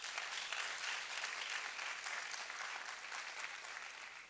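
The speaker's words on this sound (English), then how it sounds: "Let's clap to that." A congress audience of delegates applauding together, a dense, steady wash of clapping from many hands that holds evenly throughout and sounds a little distant.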